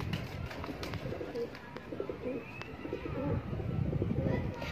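Laal Pari breeder pigeons cooing softly amid a loft's low background rumble, with faint chirps and scattered clicks; the calls are quiet and continuous over the whole stretch.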